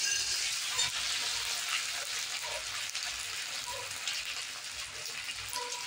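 Green chillies frying in hot oil with ginger-garlic paste for a mushroom masala, a steady soft sizzle and crackle with faint stirring throughout, fairly quiet and close.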